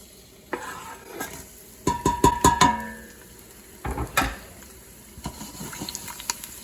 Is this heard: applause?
no